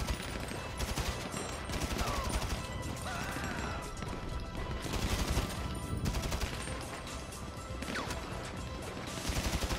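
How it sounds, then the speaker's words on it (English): Grand Theft Auto V gunfire crackles in rapid bursts and scattered single shots alongside crashes and game noise, loud and dense throughout a busy shootout with no clear talk. "Where I can shoot, we can shoot them."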